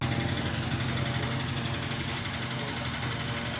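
An RTR motorcycle engine with a failed crank bearing runs steadily close by, giving a constant rough, harsh mechanical drone with a knocking texture and no breaks.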